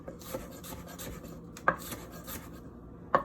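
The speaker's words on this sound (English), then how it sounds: "If you're gonna use it, just chop it up." A knife chops through an onion end piece on a cutting board, giving a few sharp, separate knocks spaced irregularly over light scraping, close and fairly quiet, with no talking.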